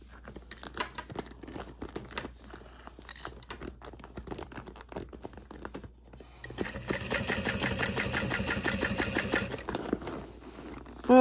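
A sewing machine runs slowly along a handbag seam, starting in short, uneven bursts and then settling into a steady, louder stitching run near the end, with no voices.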